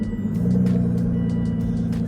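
An Aston Martin car being started with a key, its engine giving a steady low rumble with some faint higher clicks and ticks above it, fairly close and continuous throughout with no talking.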